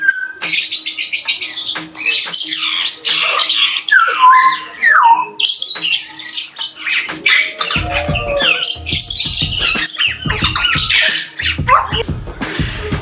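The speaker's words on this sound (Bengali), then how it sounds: "অনেক পাখি রয়েছে এখানে।" Many birds squawk, chirp and call at a large safari park, loud overlapping cries close by and continuous, with some low scuffling sounds in the second half.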